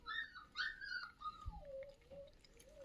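Young puppy from a litter of abandoned newborn pups whimpering in thin, high, wavering cries, several rising and falling whines in succession, close and fairly quiet with a brief low bump partway through.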